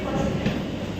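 A train pulls slowly out of Sealdah station, giving a low, dense rumble with a faint rhythmic clatter of wheels, heard close and continuous through a short moment.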